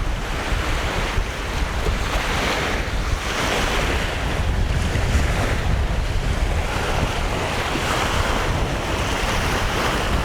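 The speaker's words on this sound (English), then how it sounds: "You hear waves more?" Ocean waves washing in during an outdoor walk near a large bridge, with gusting wind buffeting the camera-mounted microphone; a loud, continuous roar of surf and wind noise with no talking.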